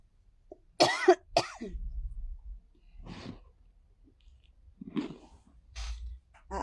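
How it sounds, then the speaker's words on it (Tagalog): A person with a cough that has lasted nearly a year coughs during a live stream, giving a close cluster of harsh coughs followed by quieter throat-clearing and breaths in a quiet room. "Aabuti na ng 1 taon yung ubo ko."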